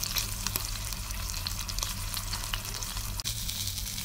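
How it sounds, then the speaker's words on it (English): Bacon fries in a pan over a campfire cooking kit, giving a loud, continuous crackling sizzle with dense popping spatter throughout and no break. "Cooking up this bacon, wow."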